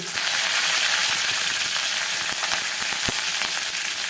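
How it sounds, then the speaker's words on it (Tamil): Mustard seeds, fennel, crushed garlic and curry leaves sizzling in hot oil, a loud dense crackle and hiss close by, with sharp pops and clicks near the end. "காஞ்சோடனே கடுகு சோம்பு தட்டி வச்ச பூண்டு கருகப்பிலை"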